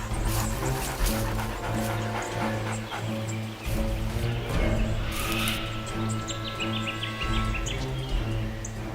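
A dingo pack pants steadily and close by over a dense outdoor background, with faint bird chirps now and then.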